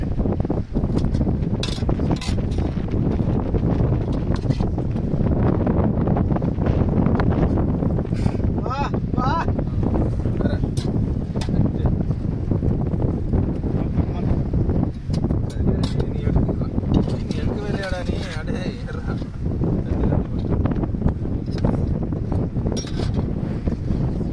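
Strong, steady wind roars across the microphone on a fishing boat at sea, with water rushing and splashing underneath; voices are faintly present at times.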